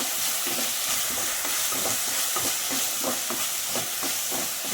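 Tomatoes salted and sprinkled with turmeric frying in a pan, a dense constant sizzle with repeated scraping and clinking as they are stirred, close and loud.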